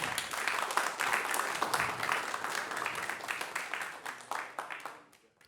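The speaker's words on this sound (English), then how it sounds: "Round of applause for this awesome rant." Audience applause at a tech conference talk, dense and sustained clapping from a crowd for about five seconds before tapering off at the end.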